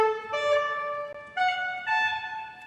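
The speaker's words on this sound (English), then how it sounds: "And so this piece has a line for 3 trumpets" Three trumpets play a Bach cantata symphonia melody, sustained bright notes entering in steps and changing pitch at a steady, stately pace, clear and alone.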